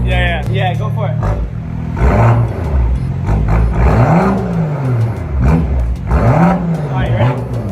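A straight-piped BMW M2 engine revved repeatedly in loud, close blips that rise and fall in pitch, with brief voices at the start.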